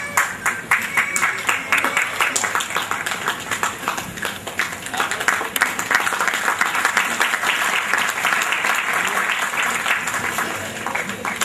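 Loud, sustained applause fills the hall at a community function as an honoured guest is presented with a shawl, dense hand clapping running steadily for about eleven seconds with no talk over it.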